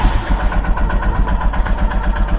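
A motorcycle engine idles close by after starting, a steady loud thumping chug with even rhythmic pulses and no talk over it.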